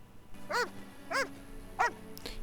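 Three clear, evenly spaced dog barks ring out at close range in The Witcher, each a short sharp yelp over a quiet ambient background, followed by a fainter fourth sound at the end.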